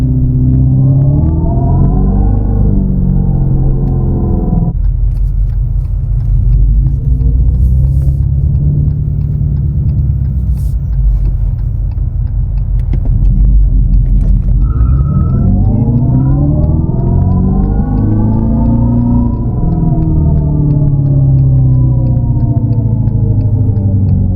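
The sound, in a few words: Dodge Charger Daytona EV electric car accelerating in drag mode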